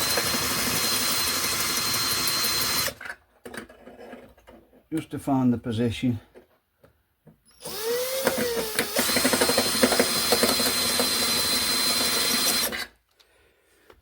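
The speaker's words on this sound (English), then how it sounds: "I've got a thinner drill bit than I need, and I'm going through the holes" A power drill with a thin bit bores holes into a wall through a back box, in long loud grinding bursts separated by pauses, with someone speaking briefly during a quiet gap.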